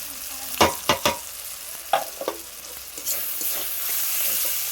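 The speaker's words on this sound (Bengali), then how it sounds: "মশলাটা ভালো করে তেল ছাড়া পর্যন্ত কষে নেবো" Spice paste of turmeric and vegetable masala sizzles in hot oil in a pan while a spoon stirs it, giving several sharp scraping knocks early on over a steady frying hiss.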